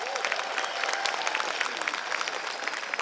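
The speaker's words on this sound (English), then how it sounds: "So another round of applause." Steady applause from a crowd at a community event in Gympie, dense and sustained clapping throughout with no pauses.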